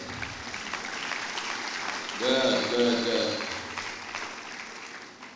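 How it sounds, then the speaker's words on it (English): Applause from a conference audience at an annual professional gathering, a steady, moderate patter of many hands with voices mixed in, swelling briefly at the middle. "Can you give him a round of applause?"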